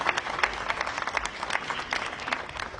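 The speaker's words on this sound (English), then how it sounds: "give a big round of applause for Melissa" An audience applauds a speaker at the Paris Peace Forum, a steady, dense round of clapping from a large room that carries on throughout with no voices over it.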